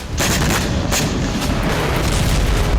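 Heavy booms and blasts from attacks in Israel, loud and dense with several sharp impacts over a continuous roar.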